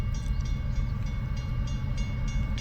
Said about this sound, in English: Train heading east